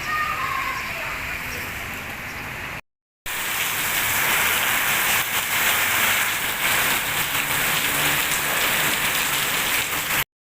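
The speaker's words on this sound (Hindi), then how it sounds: "पीछे बारिश हो रही है इतनी ज़बरदस्त किस्म की ना कि बस क्या बताया जाए" Heavy rain pours down in a dense, continuous hiss, interrupted by a brief cut before resuming even louder.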